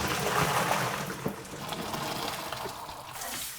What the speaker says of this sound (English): Colander, thank you. So let's drain.